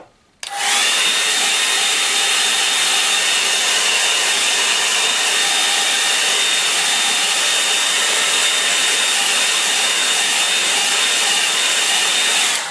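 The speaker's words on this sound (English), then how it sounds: "you won't have the luxury of the hairdryer." A hair dryer switches on after a brief pause and runs steadily at full blast over watercolour paper, a loud, continuous whooshing whine with no talking.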